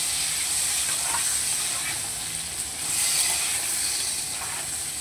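Pointed gourd pieces fry with turmeric in a pan, giving a steady, close, hissing sizzle that holds even throughout with no talking over it.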